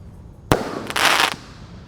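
A ten-shot firework cake for Eid al-Adha: its final shot goes off as a sharp, loud bang, followed by a louder crackling burst that lasts about half a second and then fades into quiet outdoor background noise.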